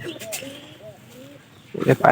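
Soft pigeon cooing, a few short gliding calls close by, followed by louder voices talking over the end.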